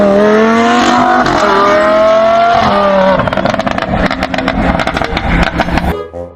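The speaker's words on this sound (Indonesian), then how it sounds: "Yang ini mobil balap teman-teman" A yellow toy race car gives off a loud, steady revving engine whine with rising pitch, then turns into a rapid rattling, clicking buzz before cutting off abruptly.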